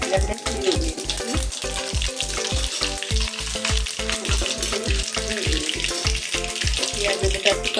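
Cumin and mustard seeds crackle in hot tempering oil for a Kathiyawadi whole onion curry, a loud, continuous close-up sizzle with busy popping throughout and no voices.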